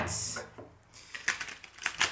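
Cards are shuffled close up for a tarot-style reading, giving quiet riffling bursts and a run of light, clicky snaps near the end.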